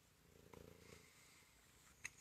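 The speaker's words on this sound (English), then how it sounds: "It's my kitty." A pet cat purring in a faint, short burst of soft rhythmic rumbling, followed by a couple of sharp clicks near the end.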